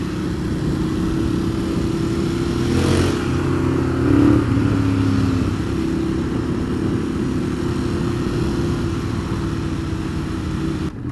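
A 2015 Ducati Monster 821 engine idles steadily, then gets a quick blip of the throttle around the middle that rises in pitch and falls back to a low, even idle. The sound carries on alone, close and loud, with no talking.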